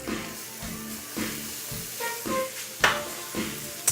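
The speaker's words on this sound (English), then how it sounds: "put in my red pepper, yellow pepper, and red onion, a little bit of garlic too, and I'm just going to saute this up" Red and yellow peppers, red onion and garlic sauté in olive oil, a soft sizzle punctuated by stirring scrapes and clinks of a utensil against the pan, close and moderately loud.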